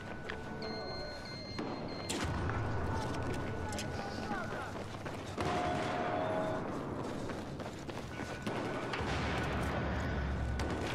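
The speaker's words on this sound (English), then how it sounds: "I see him, I'll shoot him." Gunfire while shooting at an enemy in an online video game, a few sharp shots spaced several seconds apart amid steady game noise, with people talking throughout.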